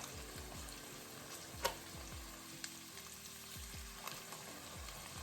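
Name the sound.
onions and garlic sautéing in a pan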